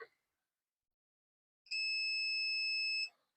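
A steady, high electronic multimeter continuity beep with a pure tone and overtones sounds for about a second and a half, alone after a brief noise at the start, indicating a shorted component.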